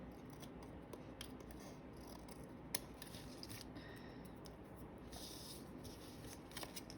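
Scissors snip and slide along paper trimmed close to the edge of a quilted card, a soft continuous rasping cut with a few sharper clicks, close and quiet with no talking.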